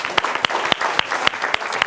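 Warm audience applause for the women of a Greek Asia Minor cultural association at a community event, dense steady clapping from a crowd close by, lasting throughout without voices.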